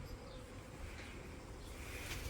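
A dense, steady buzzing hum of many honey bees in an opened hive, continuous and close, with no talking.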